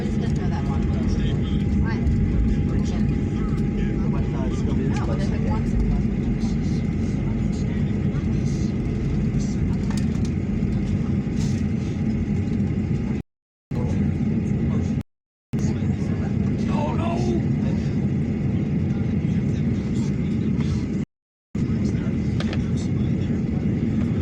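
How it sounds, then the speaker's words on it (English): A continuous low roar of a passenger jet fills the cabin during a hard landing back in Houston and the taxi that follows, with muffled voices in the background and a few brief dropouts. "And they gave us the hard landing this time."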